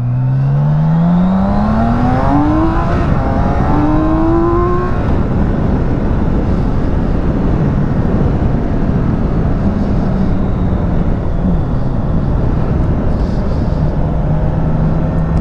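A BMW K1600B six-cylinder bagger motorcycle accelerates hard, its engine note climbing steeply through several gear pulls, then settling into a steady loud drone with heavy wind rush throughout.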